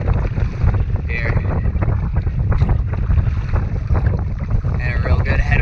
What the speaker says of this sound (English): there's actually some pretty good chop coming through in the middle of this here